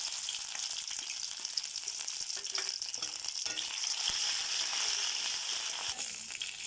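Onion paste sizzles in hot oil in a pan while egg bhuna is cooked, a close, steady crackling hiss with occasional soft scraping and stirring.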